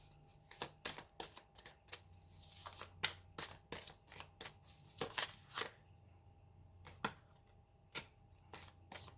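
Tarot cards are shuffled close up in a quiet room, a run of sharp papery riffles and snaps in irregular bursts with brief pauses between.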